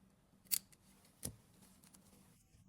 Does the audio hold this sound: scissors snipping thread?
yes